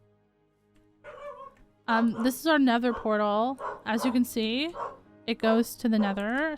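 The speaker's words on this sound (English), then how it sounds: "Sorry about my dog in the background." A dog barks and yips in the background of a home, apparently reacting to a doorbell, while a person talks steadily over it during a Minecraft stream.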